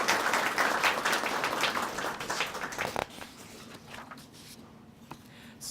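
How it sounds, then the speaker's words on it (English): Audience at a school Student of the Month event applauding the sponsors, a dense patter of clapping for about three seconds that thins to a few scattered claps. "So let's give a round of applause for all of our sponsors."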